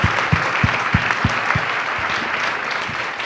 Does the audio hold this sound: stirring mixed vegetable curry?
no